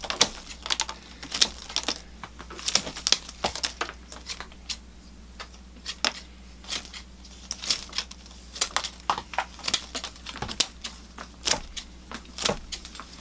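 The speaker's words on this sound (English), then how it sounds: "I'll use my long blue scissors and just prune a nice canopy to the tree and make it more compact." Long blue scissors pruning the leaf canopy of an indoor bonsai tree, producing a quick, irregular run of crisp snips close by over a low steady hum.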